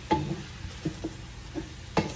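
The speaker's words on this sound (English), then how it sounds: "See how I'm stirring it up?" Cabbage soup stirred in a pot with a utensil, giving several separate scraping and clinking strokes at an uneven pace over a low background hiss.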